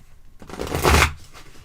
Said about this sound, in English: I did my best to try to shuffle